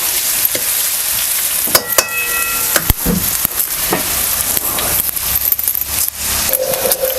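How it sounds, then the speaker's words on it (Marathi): Onions sautéing in a pan for village-style mutton sukka, loud close sizzle with sharp clinks and scrapes of a metal spoon against the pan at irregular intervals, no speech. "अगोदर आपण कांदा तेवढंच परतून घेऊया"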